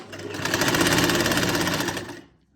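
A sewing machine stitches a seam on a kameez shirt, a fast, even, rattling run of stitches at close range that builds up, holds steady for about two seconds, then stops.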